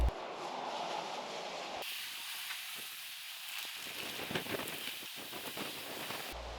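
A Wadamisaki Line train waits at the station, giving off a steady broadband hiss and low hum that changes abruptly partway through. No voices are heard.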